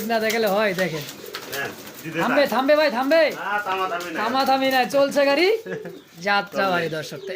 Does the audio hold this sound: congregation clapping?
no